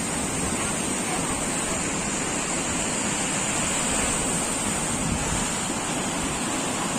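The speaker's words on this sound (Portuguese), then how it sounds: "onde a força da água está muito alta" Strong floodwater rushing near a church during flooding in Londrina, Paraná, a loud, unbroken roar of water with wind buffeting the microphone throughout.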